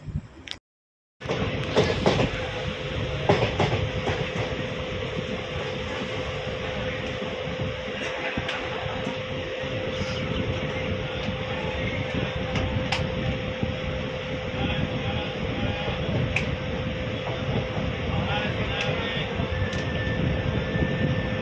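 The Kanchanjunga Express sleeper train rumbles on in a loud, continuous roar heard from inside a carriage, opening with a brief silence and then holding steady without talking.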